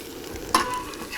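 A Japanese vegetable knife stirs and scrapes food in a frying pan, cooking outdoors in Joshua Tree, with one sharp metallic scrape over a soft sizzle.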